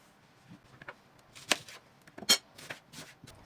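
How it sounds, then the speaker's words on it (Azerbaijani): A knife finely chopping onion on a board, a handful of soft irregular cuts, faint and close. "Soğanı isə xırda-xırda doğrayırıq."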